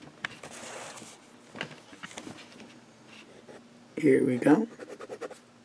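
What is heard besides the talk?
Visconti Watermark fountain pen writing on Tomoe River paper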